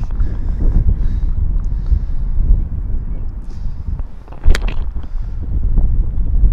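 Wind gusting across an open golf course, a steady low rumble buffeting the microphone throughout, with a brief sharper rustle midway.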